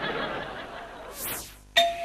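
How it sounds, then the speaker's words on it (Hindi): A household doorbell gives a bright ding near the end, sharp and clear after a sweeping whoosh and a dip into near silence, set in a Pakistani TV drama. "घंटी बजते हुए बहुत देर हो रही है, जाए दरवाजे पर चली जाए"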